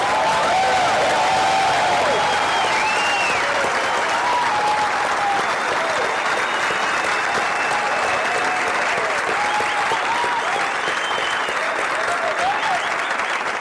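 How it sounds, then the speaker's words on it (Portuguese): Dense, sustained applause from an auditorium audience in Lisbon, loud and even across the whole stretch, with faint crowd voices mixed in. "Quero dar uma salva de palmas para vocês aí"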